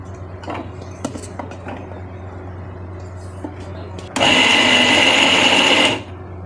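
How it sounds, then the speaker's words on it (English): A mixer grinder (mixie) whirs loudly and steadily for about two seconds as it grates small pieces of coconut, after quieter clicks and knocks while it is set up. "I will put it in the mixie and grate the coconut"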